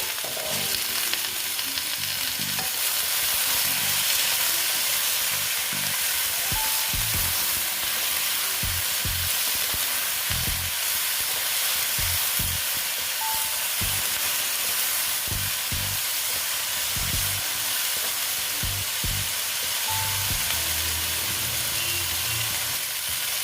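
Bottle gourd greens cooking with potato and sun-dried lentil dumplings fry in a pan with a steady, dense sizzle and hiss throughout, while a utensil stirs and scrapes now and then, close and continuous, with no talking.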